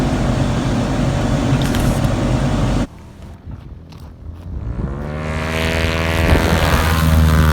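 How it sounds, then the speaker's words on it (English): An SZD-45A Ogar motor glider with a propeller drones loudly during a low go-around. The engine noise drops away briefly, then builds back as the aircraft climbs and passes nearby. "And this time going for a low go around."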